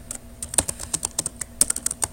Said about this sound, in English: So I can start typing and I can put a description.